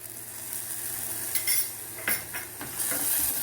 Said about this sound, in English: Add green chili.